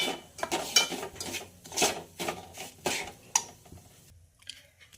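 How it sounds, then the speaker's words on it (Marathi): Semolina roasting in a pan, irregular scraping and tapping strokes of a spoon against the pan in quick bursts, close and fairly quiet, fading to near silence at the end with no talking. "तर मस्तपैकी रवा भाजून घेऊया"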